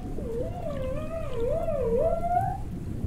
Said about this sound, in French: Une baleine à bosse.